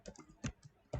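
Soft keystrokes on a computer keyboard while Java code is written, a quick irregular run of light taps with a few louder key presses, close and quiet.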